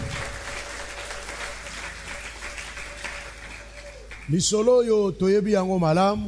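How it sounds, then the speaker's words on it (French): Congregation applause breaks out in a church service after several seconds of quiet room noise, a steady close clatter of many hands, with a voice speaking over the clapping. "Acclamons la parole de Dieu."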